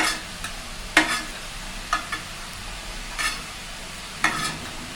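Pointed gourd peels frying with onions in a pan for a Bengali bharta, a low constant sizzle under periodic sharp spatula strokes roughly once a second, close and free of talk.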